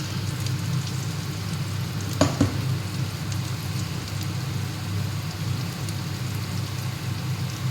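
Spiced soybean chunks frying in a pan with a masala paste, a steady, even sizzle like light rain, close and continuous, with a brief clatter of stirring partway through.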